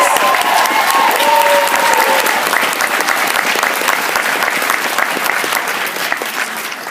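Loud, steady applause from a convention audience at an anime cosplay contest, with a few whistles or cheers early on, sustained for several seconds and tapering slightly toward the end.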